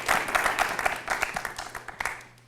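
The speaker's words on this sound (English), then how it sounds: "Let's give her a round of applause as she's coming up." An audience at a student recital applauds, a dense patter of many hands clapping together that is moderately loud and fades out within a few seconds.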